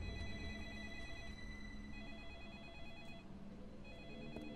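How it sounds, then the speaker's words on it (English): A phone rings in the video game Deadly Premonition, its steady electronic ringing tones repeating through a continuous ambient background. "And I'm getting a phone call."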